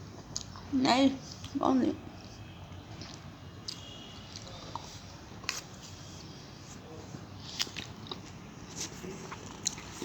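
A piece of cake topped with cherry is being eaten, with two short, close biting and chewing bursts near the start and quiet, brief talk around them.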